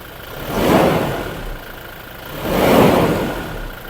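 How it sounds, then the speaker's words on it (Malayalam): A Royal Enfield motorcycle engine revs twice, each rev swelling up then falling back to a steady idle, loud and close with no voices. "ഒന്ന് റേസ് വെക്കാം"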